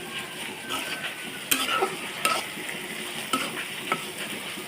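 Steady sizzling of taro stolons frying uncovered in a pan with shrimp, with a few sharp clinks and scrapes as it is stirred.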